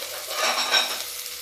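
Chopped ridge gourd fries and is stirred in a pan, giving a close, steady sizzle with soft scraping and no voices.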